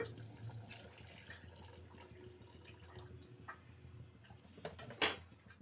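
Water poured into a cooking pot of simmering curry, a soft quiet trickle with light splashes and drips, ending in a brief louder splash near the end.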